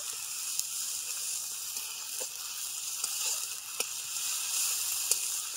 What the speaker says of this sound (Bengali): আদা রসুনটাকে দিয়েও আমি একটু কষিয়ে নেব